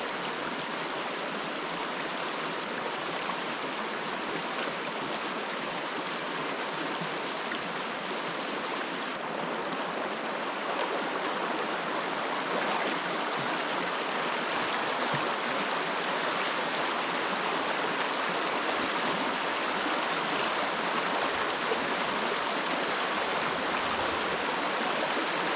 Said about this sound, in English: it's moving pretty swiftly, and where it's about a foot deep here, it'll knock over a tripod